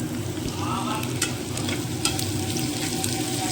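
Chopped raw onions with a little salt sizzling in a pan, a steady close frying hiss with occasional sharp spatters and stirring scrapes, no talking.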